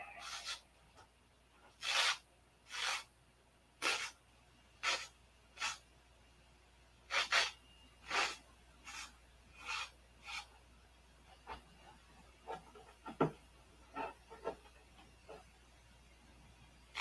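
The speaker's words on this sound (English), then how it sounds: "Hit it with the sandpaper." Sandpaper is rubbed over a P-47 model aircraft in short, separate rasping strokes, a dozen or more spaced passes that are close and fairly quiet against a hushed room.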